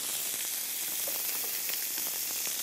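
A pike-perch (zander) fillet fries in a pan with an even, continuous bright sizzle and crackle, close and steady throughout, with no voices.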